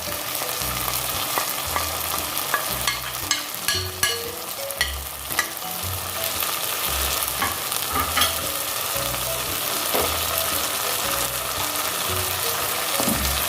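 Mince fries in a pan as spices go in, a continuous close sizzle with rhythmic stirring scrapes and clinks of a utensil against the pan.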